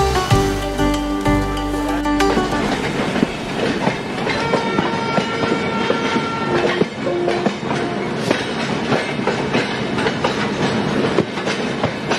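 Train at a railway station, a loud, continuous rumble with rhythmic wheel clatter and some tonal ringing layered through it, steady from start to finish with no one talking.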